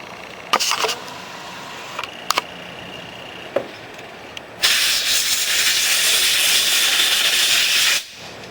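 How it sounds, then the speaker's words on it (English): Compressed air hisses through the carburetor of a 1983 Yamaha XT 250 motorcycle: a few short sharp puffs, then one loud sustained blast lasting several seconds close to the microphone before cutting off. "And compressed air."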